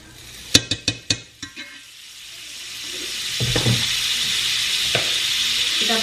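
Butter sizzling in a pan while cooking vegetarian cheese rice, starting after a few sharp clinks and taps, then building into a steady, fairly loud hiss with a couple of utensil knocks.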